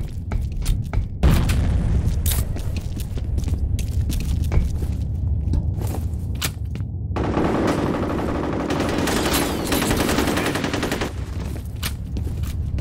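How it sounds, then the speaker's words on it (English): Counter-Strike match with a grenade blast and rapid bursts of gunfire, loud booms and rattling shots close by, followed by a sustained stretch of steady automatic fire. "Grenade out!"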